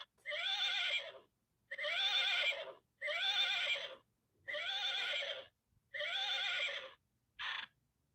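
Toy horse called Larry the Horsey letting out a series of six bright, synthetic neighs in quick succession, each about a second long with short gaps, the last one clipped short, loud and close with no talk.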